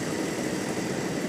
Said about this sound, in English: And again, this is with the 2-stroke engines. You hear them firing up on the grids.